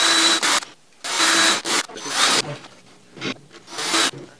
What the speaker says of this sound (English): Take our pilot hole bit and our drill.